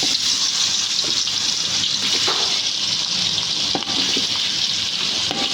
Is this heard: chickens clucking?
no